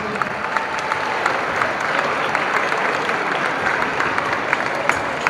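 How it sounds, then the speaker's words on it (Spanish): Audience at a school-district boxing event in Ezeiza breaks into sustained, dense applause filling the whole stretch, with crowd noise mixed into the steady clapping. "fuertes aplausos"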